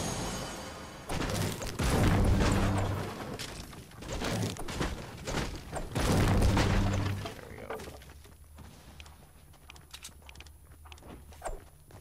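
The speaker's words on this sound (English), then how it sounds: "I'm gonna break some pallets in here real quick before I leave because they give a ton of wood" Wooden pallets are smashed apart for wood in Fortnite, with loud, sharp repeated whacks and crunches in two heavy flurries, then quieter scattered impacts and footsteps.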